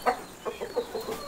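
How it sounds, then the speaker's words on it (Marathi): A large Brahma-breed rooster on a Konkan farm gives a short series of about six clucks in a loose rhythm, fairly close and clear, with no talking. "हा कोंबडा. हा मोठा कोंबडा आहे तो."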